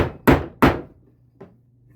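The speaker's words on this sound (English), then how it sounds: "grab my hammer" Hammer driving a wedge into a hole: two sharp, loud strikes in quick succession, then a lighter third tap after a pause, each with a short ringing decay.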